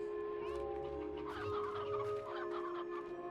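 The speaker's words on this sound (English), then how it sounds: "I hear a lot of chickens up here" Several chickens cluck and squawk close by in the Slime Rancher video game, giving a busy run of short, bright calls over a steady tonal game hum.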